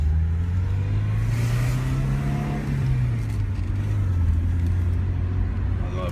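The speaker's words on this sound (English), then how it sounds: "Okay, let's take her out. We're gonna pull her on out of here." A car engine hums steadily and rises in pitch as the vehicle pulls away, heard from inside, smooth and continuous with no talking.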